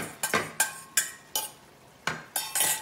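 An egg cooking in a frying pan, with a series of sharp spatula scrapes and taps against the pan every half second or so, quiet and close over a low sizzle, with no talking.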